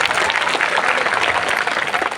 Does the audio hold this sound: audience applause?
yes